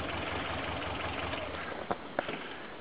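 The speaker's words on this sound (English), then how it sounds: "that's it on two cylinders. Absolutely hopeless and idling." A Subaru 1800 engine idles roughly on only two of its cylinders, making a steady low mechanical drone with a couple of brief sharp knocks near the end. No voices are heard.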